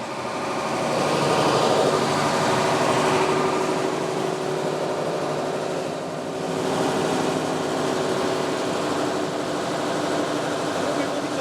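Gas-fired combustion-engine cogeneration unit with a generator, running at full power in its enclosure: a loud, steady mechanical drone with a high whine and fan-like hiss, continuous throughout, with speech faint under it.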